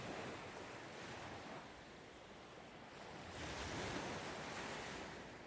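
Ocean waves breaking on an Australian shore, heard from a distance as a steady, soft wash of surf that swells and recedes, with some wind noise and no voices.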